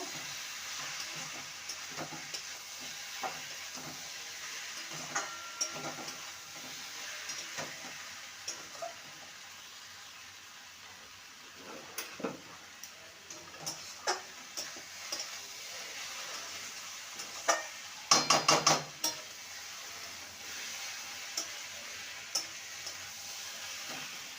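Snake gourd with spices and Kashmiri chilli powder is stirred and fried in a pan, making a soft continuous sizzle broken by faint, irregular scraping taps. A brief cluster of sharper clinks comes near the end, and there are no voices.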